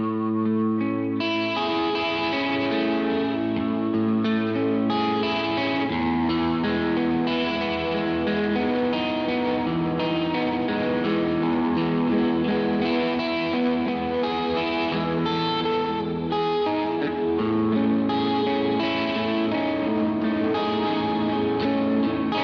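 Guitar played through an OBNE Screen Violence effects pedal with reverb, producing a continuous wash of distorted, chorused and echoing tones over sustained chords; loud and steady with no speech.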